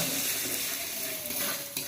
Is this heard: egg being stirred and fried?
yes